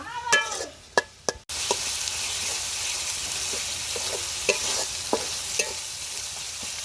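Dried lotte fish (loitta shutki) curry with gravy in a pan: a few utensil clanks, then a steady, loud sizzle of frying with occasional stirring scrapes and pops.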